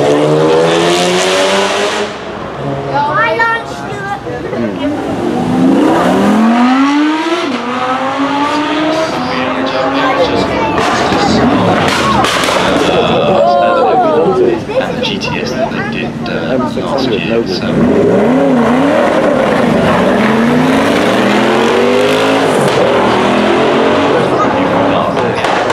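A supercar with a long extended wheelbase and a 4.7 litre engine runs at the Goodwood Festival of Speed, its loud engine rising and falling in repeated revving sweeps alongside other cars and crowd noise, with people talking over it throughout.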